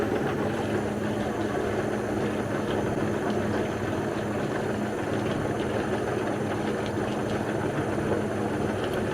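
A homemade rock tumbler driven by a Yae Tek DC motor runs steadily, a constant close rumbling churn of stones with a low hum and no pauses or voices.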